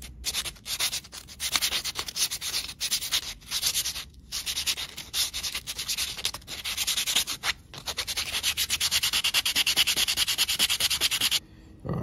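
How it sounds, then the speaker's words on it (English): Sandpaper rubbed back and forth over small wooden pieces along the grain, a close, continuous rasping scrub in steady strokes with only brief pauses. "clean up all the pieces with some sandpaper"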